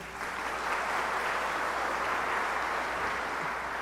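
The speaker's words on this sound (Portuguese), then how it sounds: "Uma salva de palmas para o Silva." An audience in a hall gives steady, dense applause for the whole stretch, even and moderately loud, with no voices standing out.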